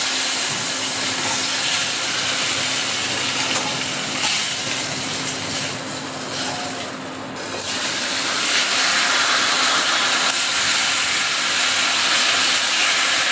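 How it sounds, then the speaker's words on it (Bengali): Small carp pieces frying in hot oil in a pan on a busy weekday morning kitchen, a loud steady hiss and sizzle that runs throughout with a brief dip midway, no talking. "চারাপোনা মাছগুলো ভাজতে বসিয়ে দিয়েছি।"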